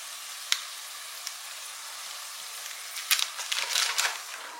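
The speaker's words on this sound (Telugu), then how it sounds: "ఈ మసాలాలు కొంచెం వేగినాయండి." Chicken masala and chili powder sizzle in a hot pan, a steady faint crackle broken by sharper pops and a brief burst of louder spitting and stirring.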